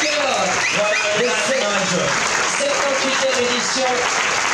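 Crowd applauding at a sailing regatta prize-giving in Geneva, a dense continuous clapping wash with a person talking over it and scattered voices throughout.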